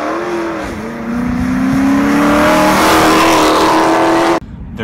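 A 2016 Dodge Charger R/T V8 revs hard and loud, its engine note climbing and holding high for about four seconds before cutting off abruptly, then idling low.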